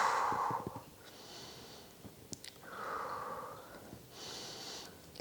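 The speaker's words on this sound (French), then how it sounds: "3 respirations." Slow, deep breaths with audible nasal inhales and soft sighing exhales during a stretching session, quiet and close, in a calm room.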